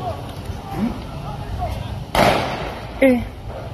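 Tanzanian army soldiers fire live rounds: two sharp, loud gunshots about a second apart cut through background noise and distant voices.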